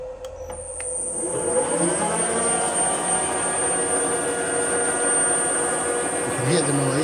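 A Deckel FP1 clone milling machine with long straight-cut gears runs up to speed, its motor and gearing building into a steady loud whine and hum that continues throughout, with a high tonal ring above.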